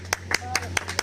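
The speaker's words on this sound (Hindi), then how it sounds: "आप लोग ताली बजाते रहे।" An audience at a village garlanding ceremony for a late poet's statue claps in a few sharp, evenly spaced claps, close by, over a low background hum.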